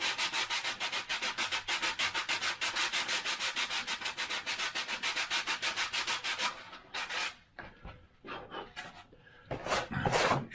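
Steady, loud sanding of a model aircraft part printed in lightweight PLA for a Wingnut 850 build, continuous rubbing strokes for several seconds, then stopping into quieter scattered scrapes and handling noises with short bursts of rubbing near the end.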